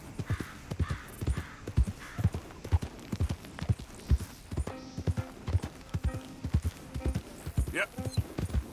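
The horse Buckeye trots along in the video game Red Dead Redemption 2, its hooves clip-clopping in a steady, close rhythm, joined midway by the faint creak and jingle of tack.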